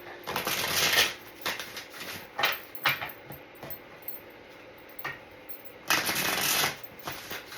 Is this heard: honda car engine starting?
no